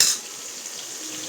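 Onions and green chilies frying in a pan for home-made egg fried rice, giving a steady soft sizzle with light clinks of a utensil against the pan and no talking.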